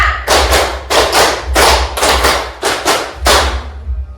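Students in an Indonesian junior high biology lesson clap two quick rounds of five in unison, crisp loud group claps in a steady counted pattern, followed by a short quiet tail.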